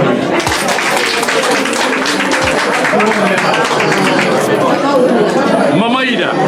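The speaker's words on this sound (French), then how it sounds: "On applaudit pour lui." Guests at a traditional customary wedding ceremony applaud together, a dense steady wash of clapping mixed with crowd chatter and voices throughout.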